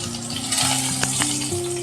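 Hilsa fish frying in oil in a home kitchen, a steady close sizzle with soft sustained tones humming underneath throughout.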